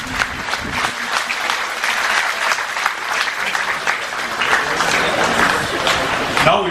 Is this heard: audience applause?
yes